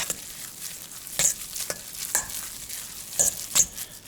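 A fork works through a Salisbury steak meat loaf mixture of ground meat and breadcrumbs, giving soft wet squelches and scrapes against the bowl in irregular bursts, close up and with no voices.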